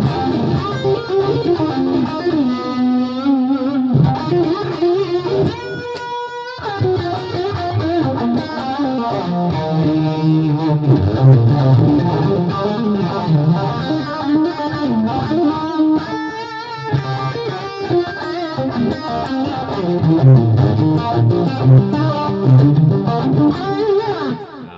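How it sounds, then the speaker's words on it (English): An electric guitar plays through a uni-vibe effect, its tone wobbling with a swirling, throbbing modulation. Loud, continuous phrases of chords and lead lines play with no talking. "With a bit of the uni-vibe thing happening there"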